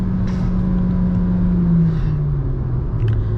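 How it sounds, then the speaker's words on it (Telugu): A Volkswagen Taigun with a DSG gearbox accelerates hard, its engine droning steadily with a rising then settling pitch and quick shifts, close and loud from inside the car, with no talk. "And super fast gear shift, lightning fast gear shifts అండి. Thanks to DSG gear box."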